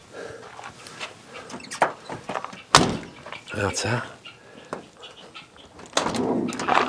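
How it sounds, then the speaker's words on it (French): A camper van's sliding door rolls along its track and thuds, loud and close, amid clattering and people chatting in French. "Là on a la porte coulissante là sur cela."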